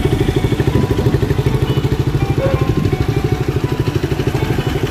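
Motorcycles arriving for forest off-roading in Punjab, including Bajaj Dominar, Hero Xpulse and KTM RC bikes, a loud close engine putter with a fast steady pulsing beat running throughout.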